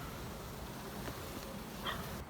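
A caught honeybee swarm hums steadily while walking on a hive frame, a dense, even drone close to the ear with a few sharper buzzes rising briefly above it.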